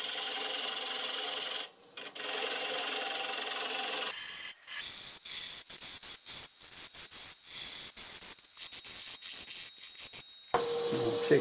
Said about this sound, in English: We'll start with a 1/2 inch bowl gouge and just start shaping this.